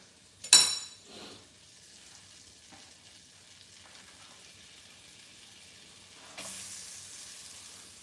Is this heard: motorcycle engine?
no